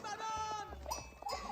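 Sheep bleat in the video game Age of Empires 4, several short wavering calls stacked over game sounds, fairly quiet throughout.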